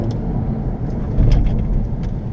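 A 2017 Honda Civic Hatch Sport with a manual gearbox spins its wheels on winter snow, giving a steady low engine rumble that swells briefly midway, with faint crunching noise on top.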